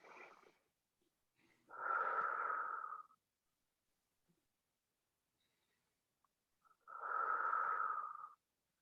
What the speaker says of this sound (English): 2 more deep breaths here